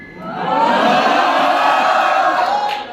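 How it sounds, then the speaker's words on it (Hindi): Student audience at a chartered accountancy shayari performance in front of the principal erupts in loud, sustained applause and cheering with whoops, swelling quickly and holding for about three seconds. "जोरदार तालियां हो जाए"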